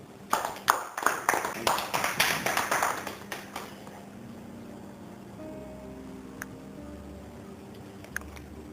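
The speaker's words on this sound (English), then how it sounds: "A big round of applause for Mr. Jamwal" An audience breaks into a brief burst of applause at a business school event, the clapping loud for about three seconds before fading into a quiet room hum with faint tones.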